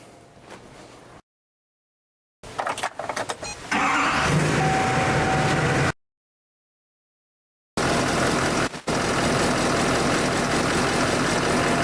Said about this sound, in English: you're gonna want to start the vehicle, make sure you don't have any leaks.